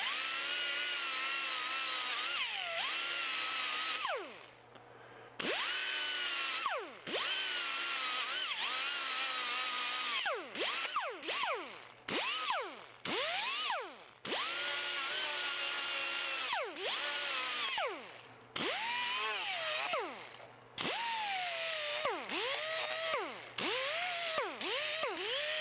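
A power sander with a 120-grit hook and loop disc works a wooden caulking tool. The steady, loud whine dips and rises again and again as pressure shifts, with short pauses between passes.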